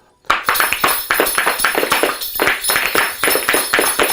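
Girls tap wooden folk spoons together in a dense, even rhythm, the sharp clicks close and loud in a quick steady pulse with no talk.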